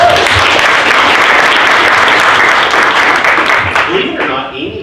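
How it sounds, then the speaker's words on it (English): A room full of people at a sales meeting gives a round of applause, dense and steady, then thinning out toward the end as a few voices start up. "Let's give her a round of applause for that."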